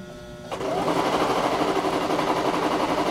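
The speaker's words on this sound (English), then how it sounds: "she's sewing, so the key is that she keeps sewing" A sewing machine starts up and runs steadily, stitching quilt pieces for a machine-pieced, hand-tied quilt with a continuous loud whirring drone after a brief quiet start.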